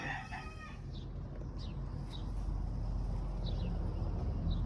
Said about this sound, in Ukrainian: Голосить і зранку мій півник, і з вечора такий дуже активний господар.